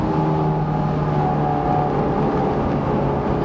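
A Honda S2000 VTEC engine holds a loud, steady high-revving drone from inside the car, continuous and without talking.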